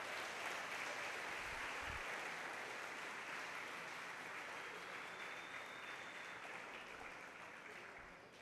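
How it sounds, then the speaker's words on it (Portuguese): Congregation at a church service giving a strong round of applause, a sustained crowd clapping that fills the whole stretch and tapers slightly at the end, heard from a distance at low level. "Dá um forte aplauso ao Senhor Jesus."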